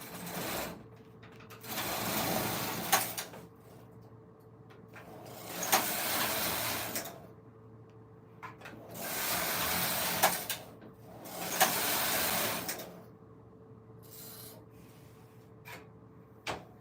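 A Silver Reed knitting machine at work, its carriage making four rasping, whirring sweeps separated by quieter pauses, fairly soft and close, with no talking.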